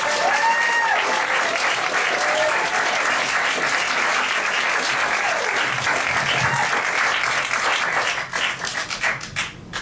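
Audience applause welcomes a comedian to the stage at a live comedy show, a dense, steady wash of clapping with a few whoops that holds loud and thins into scattered claps near the end.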